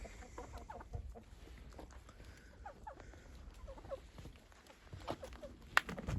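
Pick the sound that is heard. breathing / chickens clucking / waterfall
chickens clucking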